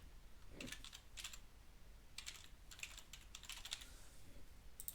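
Quick bursts of keystrokes on a computer keyboard while a file name is entered, close and fairly quiet, grouped into several short runs with pauses between them.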